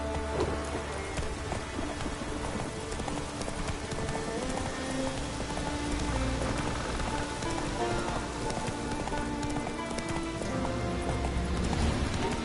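The horse Roach running in The Witcher, its hooves pounding in a steady clip-clop rhythm through a dense layer of rain and other game sounds that goes on for the whole stretch.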